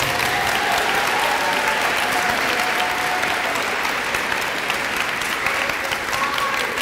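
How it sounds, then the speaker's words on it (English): At a spring sports awards ceremony, a large crowd gives a loud and sustained round of applause, thick even clapping that carries a faint tonal hum and some cheering voices and never lets up. "let's just give a big round of applause to that big support group."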